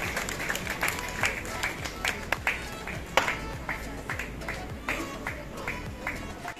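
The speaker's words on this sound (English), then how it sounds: "Round of applause for APJ School, Salt Lake." Audience applause at a CBSE regional science exhibition awards in Kolkata, scattered and uneven with distinct individual claps rising and falling in bursts, fairly faint and heard alongside speaking.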